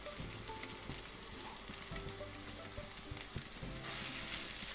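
Prawns frying in a pan of cooked masala for prawn chilli, a steady moderate sizzle with stirring scrapes, swelling a little louder toward the end.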